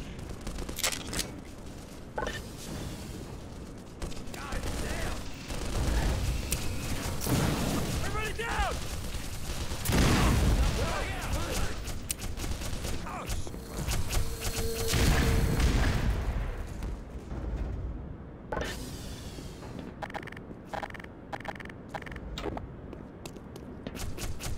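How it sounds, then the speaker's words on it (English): Gunfire in the video game Black Mesa crackles in dense bursts under a busy, loud mix of booms, footsteps and game noise, with a voice talking over much of it. "Oh, I hear gunfire is what I hear."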